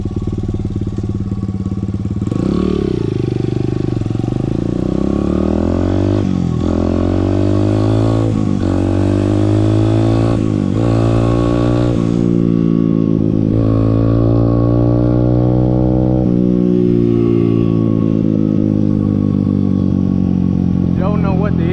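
A Honda XR100 stunt supermoto bike revving hard near the microphone, its engine note repeatedly sweeping up and down in pitch and holding at wide open throttle, loud and continuous throughout.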